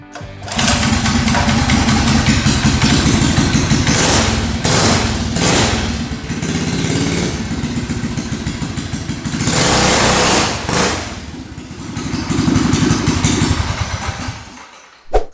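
A $200 motorized mini chopper bicycle, a custom frame built around a small engine, starts and runs with a loud, rapid, buzzy putter that rises and dips with throttle blips for about fifteen seconds before cutting off.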